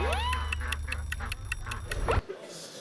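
A quiz-round countdown effect ticks steadily about twice a second, loud and close, opening with a rising tone and ending in a short chime before cutting out.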